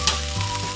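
Garlic fried rice sizzling in a hot pan, a steady close frying hiss with a brief stirring scrape near the start.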